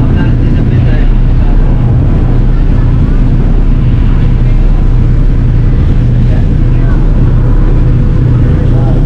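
Heavy, constant sea breeze by the ocean in Occidental Mindoro buffets the microphone in a loud low rumble, with a faint murmur of voices underneath.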